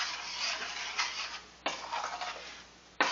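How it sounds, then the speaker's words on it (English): A spoon scraping and stirring sour cream in a pan on the stove, soft swishing strokes with a couple of sharp clinks against the pan, close and quiet. "let's put that in and let's stir this around"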